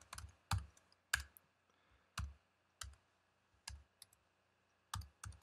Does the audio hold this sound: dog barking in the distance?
no